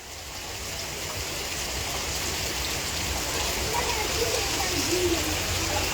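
Steady rain falls in Jamshedpur, a dense continuous hiss that stays even and slightly swells toward the end, with faint murmuring voices underneath.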